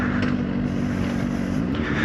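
A CFMOTO 750SR-S motorcycle engine running in third gear gives a steady, loud, close drone with a constant low hum throughout and no speech.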